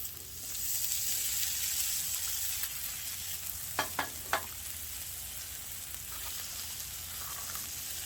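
Onions frying on a 36-inch flat top griddle outdoors hiss in a loud, steady sizzle, with a few sharp scrapes of a spatula on the metal midway through and no voices.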